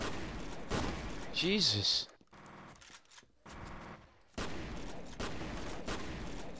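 Video game gunfire from the shooter F.E.A.R., dense bursts of shots in the opening two seconds, then a quieter lull before firing picks up again; a voice is heard briefly over the shooting.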